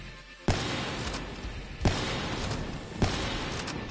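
Sniper rifle shots in a shooting video game, three loud sharp cracks spaced about a second and a half apart, each trailing into a long noisy echo.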